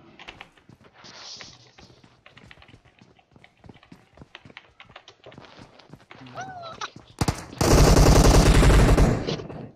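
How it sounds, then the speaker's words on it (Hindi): Rapid gunfire from the video game PUBG crackles through a burst of sharp shots and footsteps, building to a loud sustained automatic volley near the end, with a voice talking over parts of it. "ऊपर किस फायरिंग चल रही है"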